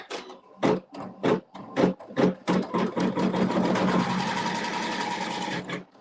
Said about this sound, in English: And now I can sew my seam.